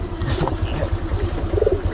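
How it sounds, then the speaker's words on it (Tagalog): Pigeons cooing in low, repeated throaty calls close by, over a steady background hum. "Yan yung ating mga ibon."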